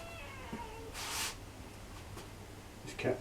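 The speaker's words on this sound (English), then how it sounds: "This cat's a bit of a attention seeker." A cat meows a couple of times, a drawn-out call early on and another near the end, fairly faint over a low background hum.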